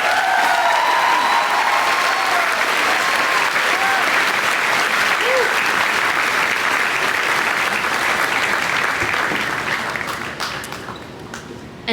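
A high school graduation audience applauds at a commencement ceremony, a loud, sustained wash of clapping from a large crowd that tapers off toward the end.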